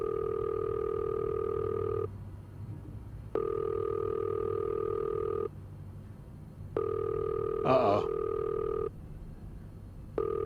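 Telephone ringing unanswered in the video game This Bed We Made, a steady two-tone ring repeating in long even bursts with pauses between, plus a short exclamation from a voice partway through.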